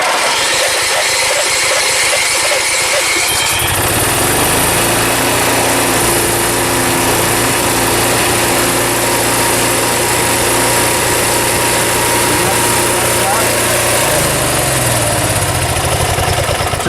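A portable generator's small engine kicks in after a few seconds, then runs loud and close with a steady, buzzy drone. The drone shifts slightly in pitch near the end.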